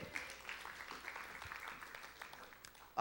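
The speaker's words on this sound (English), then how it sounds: "Give him a round of applause." Audience applause at a talk with a guest author, a quiet, steady patter of scattered clapping from a modest crowd, faint and fairly even throughout.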